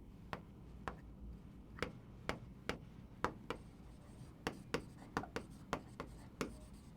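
Writing on a board while solving a physics problem on electric current produces a series of quiet, sharp taps and short strokes, irregularly spaced and fairly close, with no voice.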